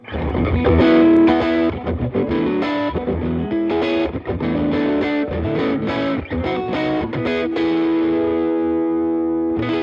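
Upgraded Epiphone Les Paul Studio electric guitar with both humbucker coils split and wired in series, played as strummed, driven chords with a thick, sustained, slightly distorted tone and no talking.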